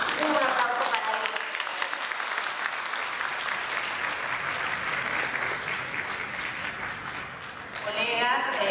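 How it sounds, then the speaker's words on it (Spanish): An audience at a mathematics conference lecture claps loudly and steadily for several seconds, with a brief dip near the end before the clapping swells again. "Un aplauso para ella."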